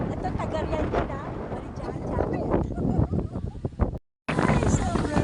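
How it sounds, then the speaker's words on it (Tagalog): Strong wind rushing through pine trees at a picnic grove, a loud, continuous gusting roar with buffeting on the microphone, briefly cut out near the end, with people talking over it. "Ay, sobrang lakas ng hangin, no?"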